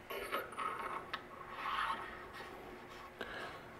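An ADM aluminum barrel nut is turned hand-tight on a 3-gun rifle upper, giving close, quiet metallic scraping and rubbing with a couple of small clicks.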